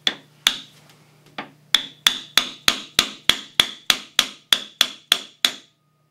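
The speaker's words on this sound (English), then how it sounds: "use my shop hammer to seat it in place" A shop hammer taps a bearing onto the armature shaft of a Porter Cable drywall gun held on vise jaws, with about fourteen sharp, evenly spaced metallic strikes. The blows come steadily faster toward the end, close and clear with no talk.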